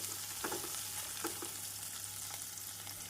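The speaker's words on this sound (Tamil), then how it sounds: "நாம் இஞ்சி பூண்டு விழுது சேர்த்த பின் நறுக்கிய வெங்காயத்தை சேர்த்து விடுவோம் வெங்காயம் பொன்னிறமாக வதங்கவும்" Chopped onions sauté in a pan with ginger garlic paste for fried rice, giving off a steady, fairly quiet sizzle and hiss with a few soft stirring scrapes.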